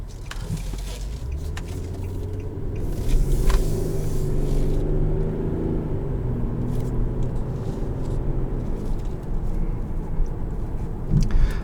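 A V6 engine in an Infiniti Q50 sedan hums steadily while driving, with a low continuous rumble and road noise from inside the cabin and a few faint clicks.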